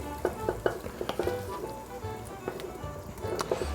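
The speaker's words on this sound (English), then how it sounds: "So I'm going to scrape this into the stock pot where we're going to be making the stew." Fried lean meat is scraped from a pan into a stock pot for stew, with sizzling under irregular metallic scrapes and utensil knocks, close and moderately loud.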